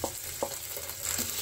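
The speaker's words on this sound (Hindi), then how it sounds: "अब हम इसमें डाल देते हैं अपना मैरिनेट किया हुआ चिकन" Marinated chicken hits a hot pan for street-style chicken Maggi, giving a brief steady sizzle with a few soft clinks from the pan, no talking.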